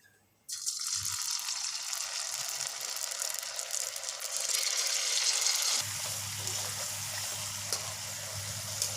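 Potato chips drop into hot oil and set off a sudden, loud, steady sizzle that hisses on continuously, joined later by a low hum underneath.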